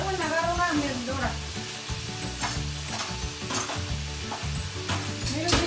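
Shrimp fry and sizzle in a pan while being stirred, a steady close sizzle with repeated scraping strokes, and a voice talking over the cooking.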